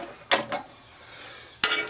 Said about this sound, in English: I hope I'm not tightening these too much